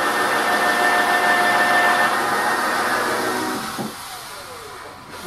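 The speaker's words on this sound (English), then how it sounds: "I'm drilling these at an angle again so the screws capture several layers of plywood in the sides of the cabinet" A power drill driving at an angle into the plywood side of a tool stand cabinet makes a loud, steady whine that stops near the end, leaving quieter handling noises.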